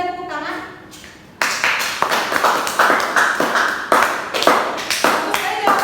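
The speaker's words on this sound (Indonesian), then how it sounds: "Beri dia tepuk tangan." A classroom group claps for a student's good answer, a burst of close, rapid overlapping claps that starts abruptly after a brief voice and continues steadily to the end.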